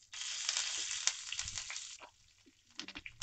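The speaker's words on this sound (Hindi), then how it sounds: "अब हम इसमें डाल लेंगे कड़ी लीव्स" A handful of curry leaves hit hot oil in which red chillies are frying, setting off a loud, crackling sizzle that bursts at once and then tails off into scattered pops and spits, close by and with no talk.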